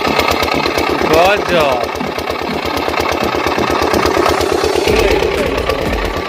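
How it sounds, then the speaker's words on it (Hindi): An old diesel pumping set engine runs steadily for field irrigation, a loud continuous mechanical chug with rhythmic knocking, while people talk nearby over it. "तो भैया ये हटे पंपिंग सेट, ऐसा देख ले जाओ।"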